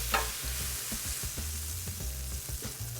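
Shrimp cooking in a frying pan: a steady hiss of sizzling oil broken by repeated scraping and stirring taps against the pan, close and fairly quiet.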